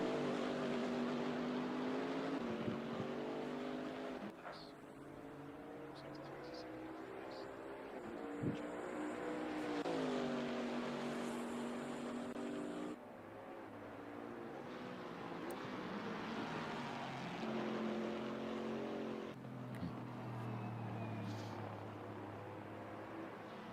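Race car engines in Assetto Corsa Competizione at Zandvoort, an AMG, a Lexus and a Ferrari droning and shifting through rising and falling revs, a steady mid-distance roar that continues throughout.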